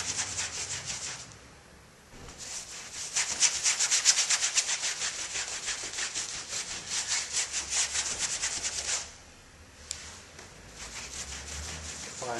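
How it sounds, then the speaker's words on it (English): A brush spreads primer across a canvas and the sides of its wooden stretcher in close, rhythmic scrubbing strokes, with two short pauses between passes and no talk. "Not forgetting to actually prime the sides of the stretcher as well."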